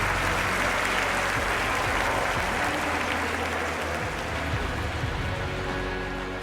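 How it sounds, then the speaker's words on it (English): A stadium crowd in a London 2012 Olympics video game cheers and claps in a dense, continuous wash of applause that stays loud throughout before an event starts, with no voices speaking over it. "Well, plenty of crowd support here."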